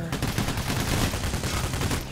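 A PKP machine gun in Payday: The Heist fires rapid, sustained bursts, a dense rattling stream of shots that stays loud and close throughout with almost no gaps.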